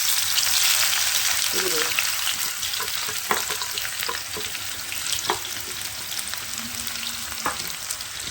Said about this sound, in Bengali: পেঁয়াজটা ভালো করে ব্রাউন করে ভেজে নেবো, খুব ভালো করে ভাজবো।